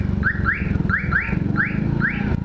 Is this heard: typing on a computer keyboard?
no